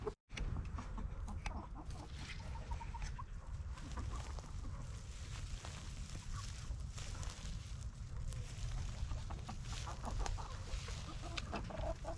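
Chickens cluck continuously in an outdoor chicken yard, a dense flock chattering steadily at close range with no talk over it.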